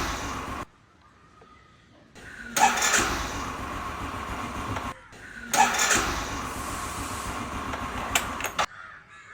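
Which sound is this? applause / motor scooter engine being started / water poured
motor scooter engine being started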